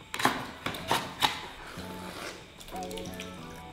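Coconut water poured into a bowl of mango while cooking, giving a few close clicks and splashes and then a steady, gentle liquid trickle.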